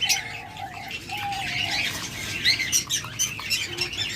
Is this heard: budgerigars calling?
yes